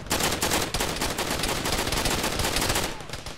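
Sustained automatic machine-gun fire from a vehicle-mounted gun in the Arma military game, dense rapid bursts running loud and nearly continuous, easing off only at the very end.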